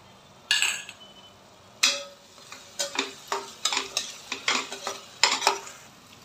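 A spoon stirs and scrapes poha with softened onion and sugar in a pan. It makes a series of distinct clinks and scrapes in an uneven rhythm, close and fairly quiet, with a faint sizzle underneath and no talking.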